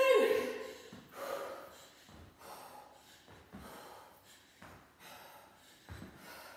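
Heavy, ragged breathing from a person mid-workout between Tabata jumping intervals, with repeated gasps and snorting exhales about once a second, close and fairly loud with no words spoken.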